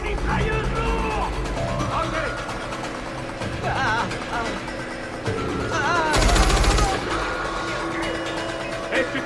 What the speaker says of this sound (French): Oh, la mitrailleuse lourde!